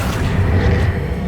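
Accio summoning spell cast in the Hogwarts Legacy video game, a loud, low, rumbling boom-like burst sustained through the whole moment, with no talking.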